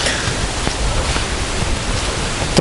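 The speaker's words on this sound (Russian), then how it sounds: "Покрапывает дождик, где-то погромыхивает." Light drizzle on a cloudy day during a kayak trip on the Sudost and Desna rivers near Chernihiv, heard as a soft, even hiss of rain with no clear thunder.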